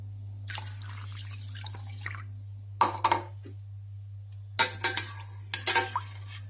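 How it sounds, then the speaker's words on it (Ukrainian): Milk is poured into a pot of rinsed millet and water, heard as soft drips and two short bursts of liquid splashing over a steady low electrical hum, with no talking. "буду зараз додавати ще молочко"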